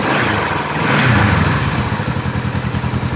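A restored 1972 Honda CB450 K5 motorcycle engine catches and runs loud and close, rising as the throttle is blipped, then settling into a rapid, steady pulsing idle with mechanical clatter and no talk.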